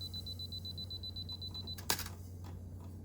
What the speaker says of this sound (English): The self-timer is a function that releases the shutter a set number of seconds after the shutter button is pressed.